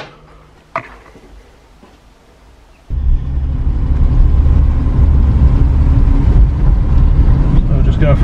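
A 1972 Volvo 164 E is heard driving: after a quiet stretch with a brief knock, a loud, steady low engine rumble with road and wind noise fills the rest of the clip.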